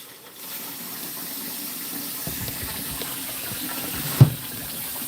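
Cold water runs steadily from a tap while cleaned game is rinsed, a soft, continuous splashing stream with a brief louder knock partway through.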